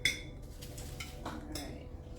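Graham-cracker crumbs poured and pressed into a pie pan for a peanut butter cream cheese pie, giving a soft scattered rustle with light clinks of pan and utensil, close and quiet, with no talking.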